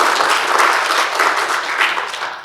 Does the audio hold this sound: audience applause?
yes